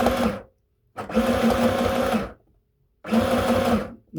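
A sewing machine runs in three short close bursts while sewing a seam on a red cotton skirt, with brief silent pauses between the runs.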